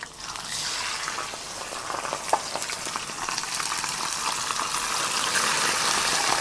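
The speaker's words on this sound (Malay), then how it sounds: "Minyak dah cukup panas, sedia untuk kita goreng." Oil sizzles and crackles steadily as fish fries in a pan, with a small clink near the start and bubbling that builds slightly.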